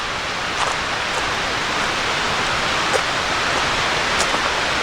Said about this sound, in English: Oh, I definitely hear water.